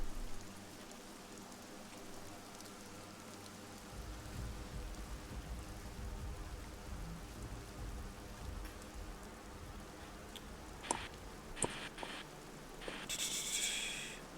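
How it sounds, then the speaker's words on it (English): Constant heavy drizzle falls in a steady, soft hiss that thickens after a few seconds, with a few sharper knocks and rustles toward the end. "there's this constant, not driving, but just a constant heavy drizzle."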